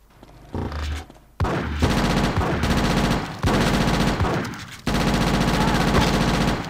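A loud stream of rapid automatic gunfire in GTA Chinatown Wars on PSP fills nearly the whole stretch, broken by brief pauses between long bursts.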